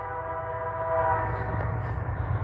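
A train behind the station in Didsbury, Alberta sounds a long, sustained horn blast over the low rumble of the passing rail cars, loud and steady with no talking.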